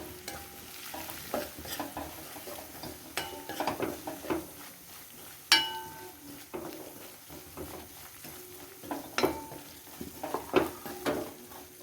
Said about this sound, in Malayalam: മഞ്ഞൾ പൊടിയും ആവശ്യത്തിന് ഇട്ടിട്ടുണ്ട് എന്നിട്ട് അതൊന്ന് ഇളക്കി ജസ്റ്റ് ഒന്ന് മൂപ്പിക്കാം